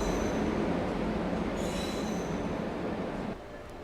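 Amrit Bharat Express train departing, wheels rolling loudly on rails with high squealing and steady rumble, heard close from on board; the noise drops suddenly near the end.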